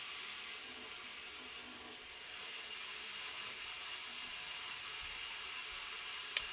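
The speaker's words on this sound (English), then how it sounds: "this little guy, it's our like water heater or something. I don't know what it does, but it's loud." A loud household water heater runs with a steady, broad hiss, nearby and unchanging throughout, with no voices.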